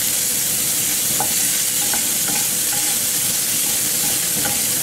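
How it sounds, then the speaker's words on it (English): Steady loud sizzling of pasta frying in a pan for macaroni cheese, a constant hiss with light scraping as it is stirred, no talking. "You can see it cooking, you can see it making a nice brown skin on the frying pan."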